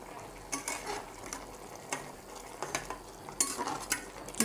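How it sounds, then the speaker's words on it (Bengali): Rohu fish curry with coriander powder, cumin paste and garam masala stirred in a pan, with repeated scraping strokes and clinks of the utensil over a low sizzle, close and alone. "ভালো করে নেড়ে ছেড়ে দেব।"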